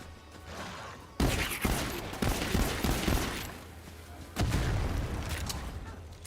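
Assault rifle fire in Borderlands 3, loud rapid bursts of automatic shots with booming impacts, a long barrage followed by a second burst near the end.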